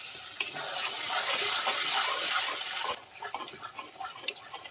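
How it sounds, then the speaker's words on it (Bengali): A little water pours into ground mustard paste with a short rushing splash, then quieter wet scraping and tapping follow as the mixture is stirred together. "সর্ষে বাটার মধ্যে একটু জল দিয়ে দিচ্ছি, দিয়ে একটু গুলিয়ে নিয়ে"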